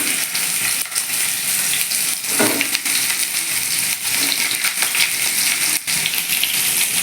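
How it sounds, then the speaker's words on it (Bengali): Ridge gourd pieces dropped into hot tempering oil, followed by a loud, steady sizzle with crackling bursts that continues throughout, close up and without talk. "ফোড়নটা রেডি হয়ে গেছে আমি ঝিঙেগুলো ছেড়ে দিচ্ছি"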